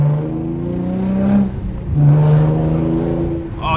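A Hyundai Genesis Coupe with a muffler delete exhaust and test pipes revs up twice, loud and close, its harsh rising drone climbing, dropping back briefly, then climbing again before settling, with a small crackle near the end.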